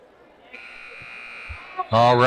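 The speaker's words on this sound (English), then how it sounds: "as the buzzer sounds" A basketball game buzzer sounds in a high school gym during a women's varsity game, a steady electronic drone lasting over a second, followed right away by a commentator's voice.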